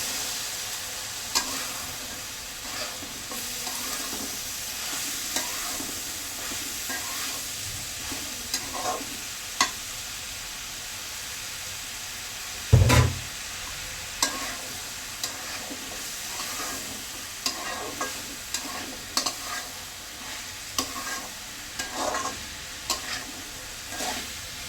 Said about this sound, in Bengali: সেহেতু আমি সবজিটা ভাজি করবো